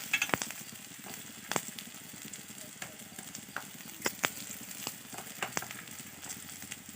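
Onion and spice masala fries in a pan, giving a soft steady sizzle broken by frequent sharp crackles and pops, close by.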